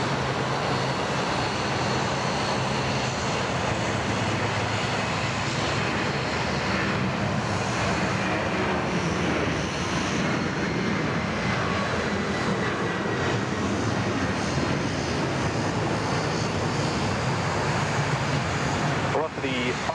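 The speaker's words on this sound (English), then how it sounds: "Now that dash 8's a little bit loud, we better turn it back down again" A Dash 8 propeller airplane at Sydney Airport produces a loud, continuous broadband roar that holds steady for the whole stretch.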